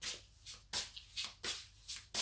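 Tarot cards shuffled by hand in quick rhythmic riffles, about six soft papery bursts in two seconds, close and quiet.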